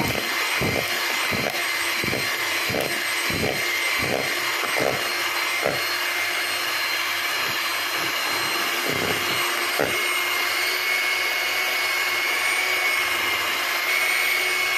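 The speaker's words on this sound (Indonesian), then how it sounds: "Kita mixer hingga kental dan menjadi ringan si butternya ini." An electric mixer beats butter for a lapis legit cake batter, giving a loud, steady whirring drone throughout. Rhythmic thumps from the beaters knock against the bowl during the first ten seconds.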